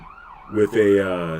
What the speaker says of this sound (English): There's always sirens here.